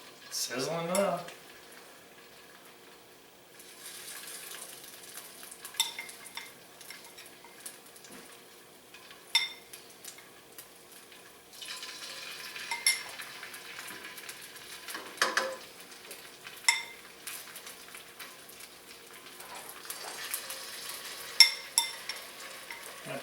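Shrimp fry in a hot pan with a soft crackling sizzle, broken by scattered clicks and clatter of cooking utensils, and a brief voice at the start.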